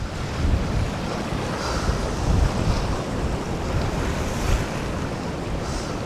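Rough surf crashes continuously at a beach in Cha-am, Thailand, a dense roar of breaking waves mixed with gusty wind buffeting the microphone, steady and loud throughout.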